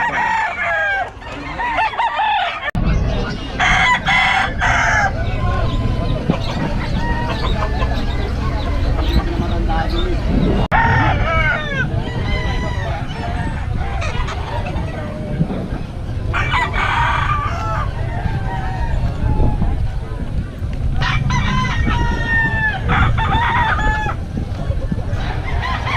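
Pumpkin sweater gamefowl roosters crowing repeatedly amid clucking from a crowded poultry setting, with people talking throughout.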